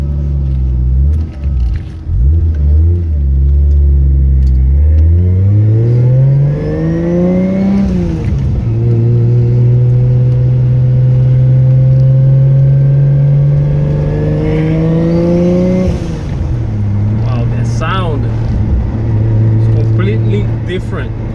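A 1JZ-powered Mazda RX-7 fitted with a new Precision 6266 turbo revs and pulls hard, its loud engine tone sweeping upward in long climbs, briefly dropping, then rising again, with some talking mixed in.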